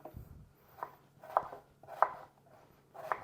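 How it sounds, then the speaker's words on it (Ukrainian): Knife chopping onion on a cutting board in a home kitchen: a handful of crisp, evenly spaced chops, close and fairly quiet, with no talking. "Тепер наріжемо цибульку"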